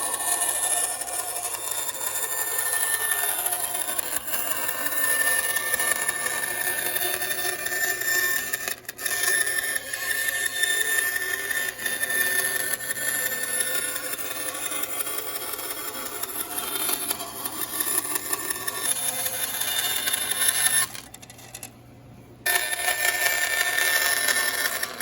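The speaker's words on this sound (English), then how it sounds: "leave a lot of extra when we're cutting this out on the bandsaw" A bandsaw cuts out the rough shape of an acoustic guitar back, giving a continuous whirring, buzzing drone that runs nearly unbroken and dips briefly near the end.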